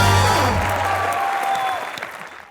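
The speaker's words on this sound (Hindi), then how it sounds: "राजा के लिए जोरदार तालियां" A studio audience at a comedy show gives a brief burst of loud applause that quickly fades, with musical tones ringing underneath.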